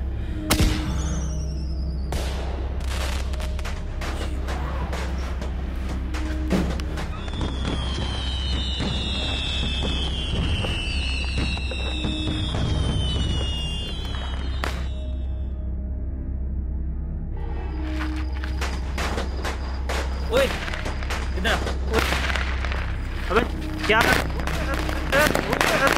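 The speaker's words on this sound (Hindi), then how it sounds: "पटाखे मत चला प्लीज भाई यार, प्लीज सर, अरे दिवाली है" Rapid crackling bursts of Diwali firecrackers pop repeatedly, loud and close, with whistling rockets soaring midway and a voice talking under the din.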